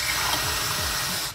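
Heated water pours steadily into a container, a loud continuous gushing splash that stops abruptly at the end.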